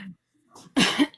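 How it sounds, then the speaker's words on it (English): A single short, close cough, harsh and phlegmy, heard right after a brief murmur of voices. "I just coughed up a little bit of phlegm."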